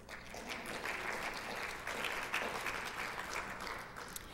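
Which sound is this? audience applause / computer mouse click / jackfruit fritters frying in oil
audience applause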